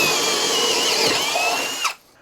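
A Craftsman cordless drill in drill mode, speed 2, runs steadily at high speed with a strong whine, then winds down and stops near the end.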